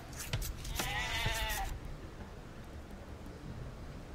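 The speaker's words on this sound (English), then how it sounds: "More sheep, good." A sheep bleats in the Age of Empires II Definitive Edition video game, one clear wavering bleat over a second long, followed by quiet game ambience.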